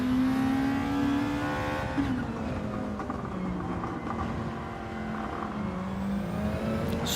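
Nissan GR2 race cars at Spa, engines droning loud and close as they come down through the gears, pitch stepping down with repeated shifts over several seconds.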